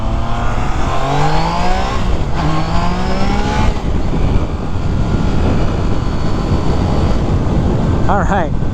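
A 2021 Triumph Trident 660 triple-cylinder motorcycle on a Southern California test ride accelerates hard under a twisted throttle, its rising engine note climbing through several gears over steady loud wind roar.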